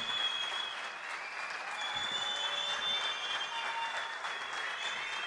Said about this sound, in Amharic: ሞቅ ያለ ጭብጨባ!